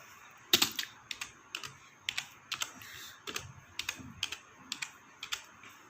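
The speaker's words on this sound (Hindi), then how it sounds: "टाइप कर लेते हैं पहले।" Keys clack on a computer keyboard in short irregular bursts of separate taps, close and clear, with no talking.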